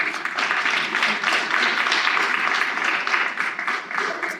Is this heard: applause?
yes